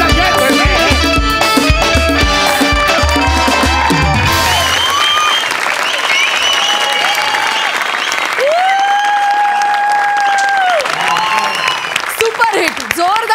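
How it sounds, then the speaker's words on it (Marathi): A studio audience at a Marathi comedy show claps loudly and continuously, with music playing over the applause. "सुपरहिट, जोरदार टाळ्या."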